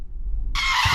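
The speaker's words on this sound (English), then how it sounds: "then the piercing sound of the tire brakes as the van rattled fiercely" A van's tires screech under hard braking after an explosion: a low rumble first, then a sudden loud, high, piercing squeal that holds to the end.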